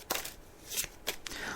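Tarot cards are dealt onto a table in a few quick, soft slaps and slides, spaced unevenly, close and fairly faint.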